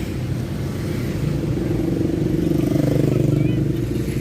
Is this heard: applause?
no